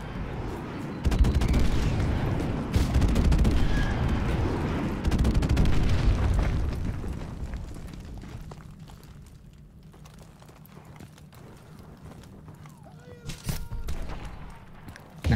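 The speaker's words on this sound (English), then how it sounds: "if we can get one kill with an airstrike, then that was a pretty successful airstrike" Airstrike explosions in Modern Warfare Remastered: heavy rumbling blasts and gunfire fill the first half loudly, then fade to quieter distant pops with a player talking now and then.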